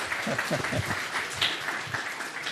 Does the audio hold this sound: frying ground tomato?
no